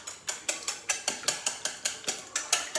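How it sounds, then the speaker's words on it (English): Eggs are whisked in a bowl, making a quick, even series of about a dozen sharp clinking strokes at a steady pace, close and clear with no voices. "And then you whisk it,"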